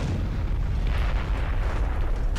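A grenade blast in Aliens: Colonial Marines, a loud, sustained deep boom and rumble filling the whole moment without a break.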